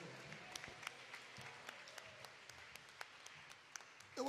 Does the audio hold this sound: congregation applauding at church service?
yes